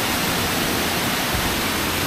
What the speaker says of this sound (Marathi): हा आपला पहिला धबधबा आहे जो माथेरानच्या घाटामध्ये लागते